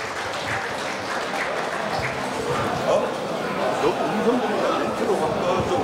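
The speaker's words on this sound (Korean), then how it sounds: "자, 힘찬 박수 부탁드리겠습니다" Applause from the audience at a Gwangju High School alumni New Year gathering and general meeting, a dense, steady patter of many hands mixed with crowd murmur, lasting throughout at moderate loudness.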